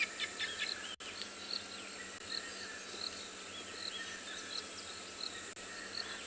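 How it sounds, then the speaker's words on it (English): A red-chested cuckoo calls in the distance during a sunrise safari at Tswalu, its repeated high notes mixed with other bird chirps and a steady insect hum across the open bush. "a red-chested cuckoo calling in the background"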